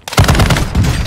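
Gunfire during a Warzone 2 DMZ match, a loud close burst of several rapid cracking shots over about a second with a brief pause partway through.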